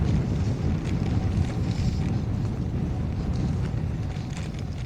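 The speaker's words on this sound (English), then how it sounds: "Listen to that wind." Steady, loud wind roars and buffets across the microphone throughout while riding along rural gravel roads in sunshine, a continuous broadband rush with no talk.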